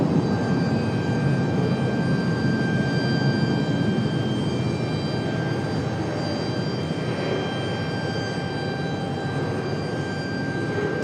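Delta CRJ regional jet at Raleigh Durham airport, a steady broadband engine roar holding evenly throughout with a faint high whine, moderately distant and heard alone.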